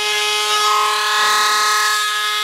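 A Dremel rotary tool drills out the vent holes of a Spulse rifle, giving a steady, close, high-pitched motor whine that holds an even pitch the whole time.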